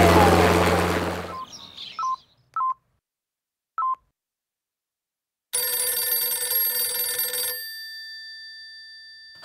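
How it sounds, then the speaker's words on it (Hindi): A home telephone rings, with a few short electronic tones followed by a loud sustained ringing burst that cuts off, after a brief noisy opening. "देखो फोन कब से बज रहा है, कोई उठा नहीं रहा।"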